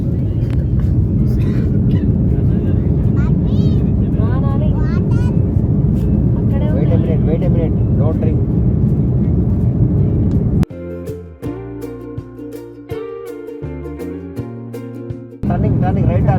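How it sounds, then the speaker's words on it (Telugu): An airplane taking off, heard from inside the cabin as a loud steady engine roar under people talking, until music abruptly takes over near the end. "ప్రజెంట్ అయితే ఫ్లైట్ మనకి ఇక్కడ టేక్ ఆఫ్ మోడ్లోనే ఉంది. పైకి ఎగిరింది గాల్లో."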